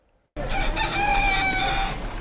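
A feral rooster in Pompano Beach crows loudly and close, one long strained call that starts abruptly after a moment of quiet.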